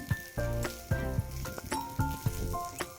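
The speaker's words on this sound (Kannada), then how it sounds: "ಆ ಶುಂಠಿನೂ ಅದಕ್ಕೆ ಸೇರಿಸ್ಕೊಳ್ಳಿ" Ginger added to hot oil in a pan sizzles loudly and crackles close up, with bursts of frying hiss and stirring scrapes over about three seconds.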